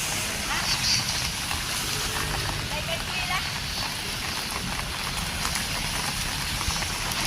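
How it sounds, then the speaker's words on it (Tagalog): Steady rain hisses and patters on surfaces nearby, a dense continuous wash of sound with faint voices underneath. "ang lakas ng ulan niya."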